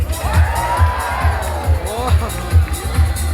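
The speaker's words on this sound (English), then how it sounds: "So watch out and cheer her on, because it's Sophie" A stadium crowd at a SeaWorld San Diego dolphin show cheering loudly and steadily while an announcer's amplified voice carries over the roar and whistly tones rise through the noise.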